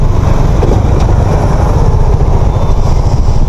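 A Shineray Rio 125 fuel-injected motorcycle engine runs loud and close, a continuous low mid-pitched drone holding steady throughout without voices.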